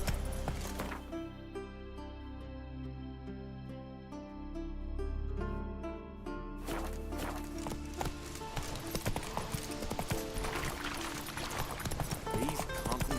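Roach, a horse in The Witcher 3: Wild Hunt, gallops with a steady rhythmic clip-clop of hooves over game music and ambience, moderately loud and continuous throughout.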